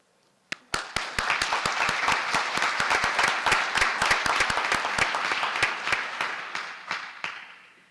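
Sparse claps start, then build into steady applause from a small crowd that continues for several seconds before thinning out at the end.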